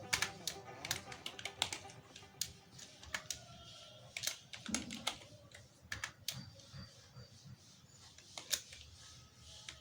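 Computer keyboard being typed on during a Microsoft Word 2010 lesson, with irregular bursts of clicking keys at close range against faint background noise.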